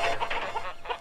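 Several rooster calls, clucking and crowing bursts, repeat in quick succession, fairly close and loud with no one speaking.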